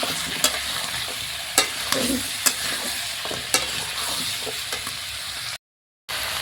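A potato is stirred into taro and meat frying in a pan, with steady sizzling broken by several sharp scrapes of the spoon at uneven intervals.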